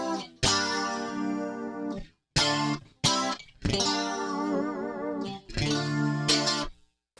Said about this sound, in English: The next thing we're going to go to get this 80s sound is the Trinity chorus,